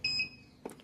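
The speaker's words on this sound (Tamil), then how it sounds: "இது வந்து ப்ரெஸ் அண்ட் ஹோல்டு பண்ணிக்க அப்படின்னா ஒரு பீப் சவுண்டு வரும்." A Kinglab KWS-620 digital weighing scale gives a short, high electronic beep during calibration. It sounds once, close and clear, and a faint click follows.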